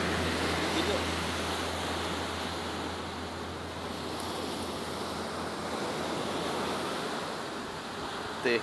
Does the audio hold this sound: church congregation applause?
no